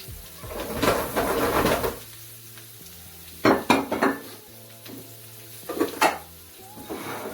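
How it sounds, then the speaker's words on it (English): Potatoes sizzle in a pan over medium heat while being stirred, with bursts of scraping and clattering utensil noise over a steady background frying hiss, close and fairly loud. "Now I'm going to turn the temperature back up to about medium and add in my potatoes."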